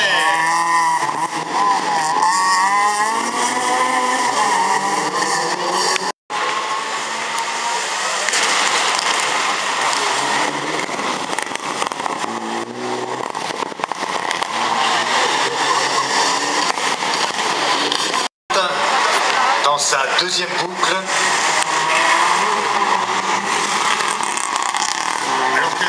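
A Renault Twingo R2 rally car engine revs hard through a stage, rising and falling high-pitched whine with gear changes, loud and close, while a commentator speaks over it.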